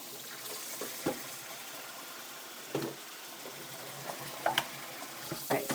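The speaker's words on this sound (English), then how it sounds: "So we're just going to try to drain the hot water out." Hot water drained from a pot of boiled eggs: a faint steady trickle and hiss of running water, broken by a few sharp clanks and splashes as the pot shifts, with no talk.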